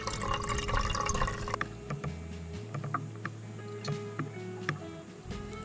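On a dinghy beached overnight at Cellars Beach on the Yealm, water is poured into a pot for coffee and porridge. A short gurgling fill gives way to quieter drips and small ticks nearby.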